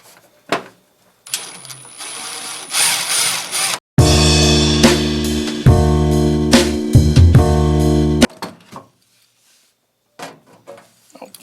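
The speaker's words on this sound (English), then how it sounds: "So, drill bit, going down right here where I can reach it." Power drill boring a hole to mount a master cut-off switch on a drag car build, running in one loud sustained burst of about four seconds, with rattling handling noises before and after.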